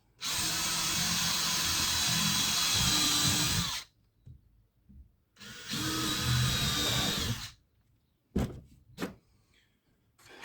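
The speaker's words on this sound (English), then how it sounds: "Put some 2-inch screws in them." Power drill driving 2-inch screws into the ends of a wooden beehive nuc box, with two long steady whirring runs of several seconds each, then a few short bursts and taps up close.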